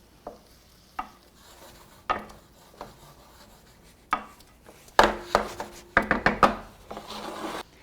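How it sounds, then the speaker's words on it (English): A spoon scrapes and rubs across the bottom of a pan while deglazing cooked bits with wine for Spanish-style mussels with chorizo, a series of short close scraping strokes that grow louder and more rapid toward the end, with no talk. "So use that spoon to just scrape up any of those bits."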